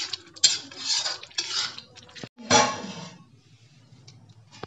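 A metal lid is set on a cooking pot of dum aloo, giving a series of close metallic clinks and scrapes, with one sharp clatter near the middle before the sound fades to quiet.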